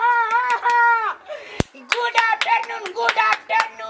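Hands clap in quick rhythmic bursts in a boarding school classroom while children's voices chant along, the claps sharp and close with one louder smack midway.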